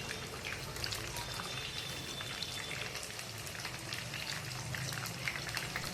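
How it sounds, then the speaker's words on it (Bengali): Cabbage pakoras deep frying in hot oil over a medium flame, a steady, dense crackling sizzle that holds even and close throughout. "চুলার জাল মিডিয়ামে রেখে আমি ভেজে নিচ্ছি।"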